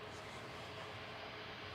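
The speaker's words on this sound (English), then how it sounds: "So I can hear a prop, so the Aer Lingus is coming out." An Aer Lingus propeller airliner at Manchester Airport produces a faint, steady engine drone heard from a distance, with a continuous low hum and a slight swell at the very end.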